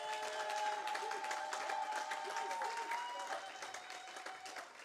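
Church congregation applauding, a steady wash of many hands clapping with faint voices and a held musical tone beneath, fairly distant and soft, tapering slightly at the end.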